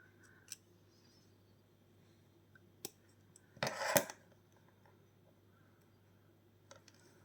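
A hobby knife cuts small plastic figure parts, including fingers, free from a model kit sprue. Faint scattered clicks surround one short, crisp cutting snap near the middle, set against a quiet room.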